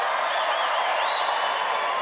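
A stand-up comedy audience in a London venue cheers and applauds in a sustained, dense crowd wash with a few voices whooping on top, steady and fairly loud throughout.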